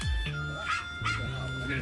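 A dog barking outdoors on a trip to Tha Wung, two or three short, close barks spaced apart, mixed with a person talking nearby.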